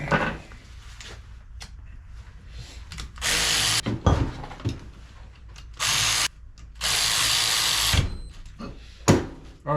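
A power drill with a bit runs in several short bursts during a 1963 Ford Falcon rebuild, loud whirring spells separated by quiet gaps and small clicks.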